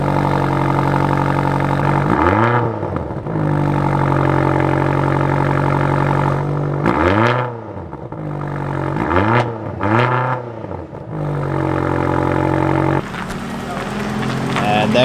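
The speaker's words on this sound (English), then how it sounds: "we will hear a cold starter right now" A car engine cold-starting at a cars and coffee gathering, loud and close, with repeated cranking bursts and revs rising and falling over a steady idle hum, and voices talking in the background.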